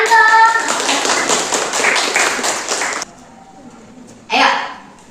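Students in a junior high school classroom in Bogor clap together for about three seconds, a dense burst of hand claps that cuts off abruptly, followed by a quiet pause and then a brief second round of clapping near the end.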